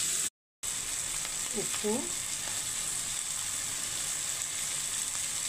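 Tomato pieces fry in a pan with a steady, soft sizzle that runs throughout, briefly cut by a short gap, while a voice speaks a word over it.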